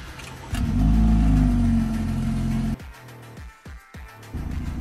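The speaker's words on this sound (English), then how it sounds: "First, we're going to measure how loud the BMW is on startup, and then we'll rev it" A BMW 328i car engine roars to life and idles loudly, then revs in several quick bursts, close up and powerful.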